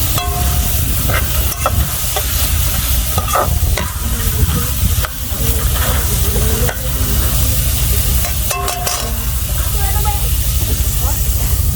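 Onions fry in a pan with a steady, loud sizzle and hiss, broken by occasional stirring clatter, and a voice is heard now and then.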